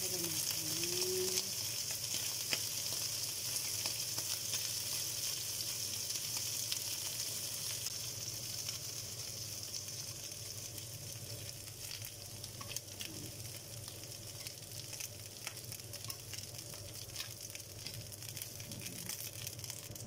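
Marinated prawns, heads left on, fry in a pan for a stir-fry with celery and cashew nuts, giving a steady, close, continuous sizzle that holds for the whole stretch, with a faint voice now and then underneath.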